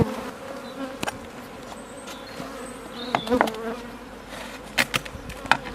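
Honeybees buzzing steadily around an opened hive, a dense, continuous drone with occasional louder passes and faint clicks and knocks from handling.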